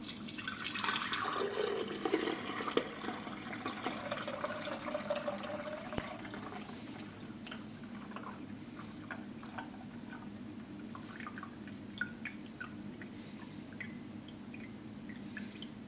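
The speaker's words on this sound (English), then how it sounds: "I'm simply going to pour the liquid through" Liquid from a vinegar extraction of shells or bones is poured through a funnel and sieve, a faint trickle at first that settles into soft, sparse dripping, quiet and close.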